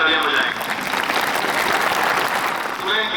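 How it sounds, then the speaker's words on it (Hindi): An audience at a school Dussehra celebration bursts into applause, a dense wash of many hands clapping that swells for a few seconds, with a voice over a speaker system at either end. "वो जोर से तालियां बजाएंगे।"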